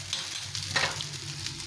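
Pasta fries in a pan with a continuous close sizzle and a brief scraping stir partway through. The sound is moderately quiet and has no talking.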